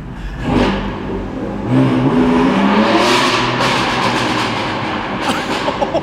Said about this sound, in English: I ran a flash on Sport Plus to make the burble even more obnoxious